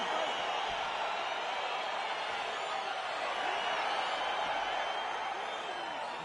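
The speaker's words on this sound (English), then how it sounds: "crowd getting excited as this fight gets underway" Arena crowd in the UFC 4 video game as a heavyweight fight gets underway, a steady, fairly faint broad roar of cheering holding throughout without clear peaks.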